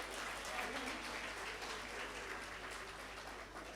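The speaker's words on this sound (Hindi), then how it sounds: "इरफान भाई के लिए तालियां बजाइए।" A mushaira audience applauding a poet, a steady, distant wash of clapping from a crowd that continues unbroken throughout, fairly faint.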